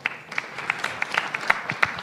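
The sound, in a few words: applause, a clap for the speaker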